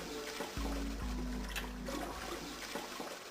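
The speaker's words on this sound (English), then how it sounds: "Loud flushing noise." A toilet flush rushes and gurgles at moderate volume for a couple of seconds, then trails off into trickling water, with no speech over it.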